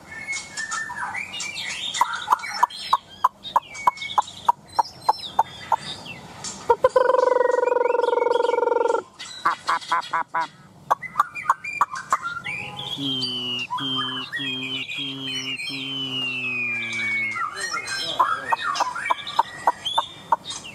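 Hwamei songbird for sale in a cage, singing loud varied whistled phrases with sharp repeated chips, a sustained buzzy call and rapid trills, close and alone without talk.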